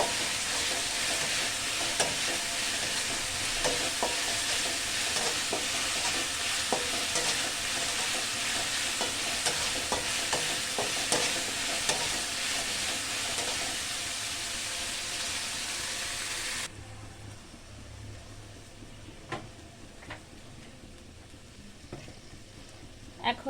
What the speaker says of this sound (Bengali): পেঁয়াজ, রসুন, আদা, কাঁচামরিচ ভালোভাবে ভাজা হয়ে গেলে